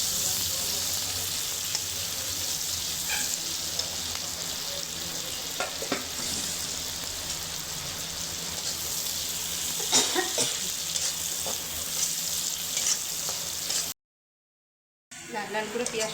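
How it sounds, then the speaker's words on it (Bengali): Chopped onions fry in hot oil with a steady close sizzle, broken by occasional clinks and scrapes of stirring. A voice talks briefly over it, and the sound cuts out for about a second near the end. "পেঁয়াজটা একটু লাল করে ভেজে নেবো।"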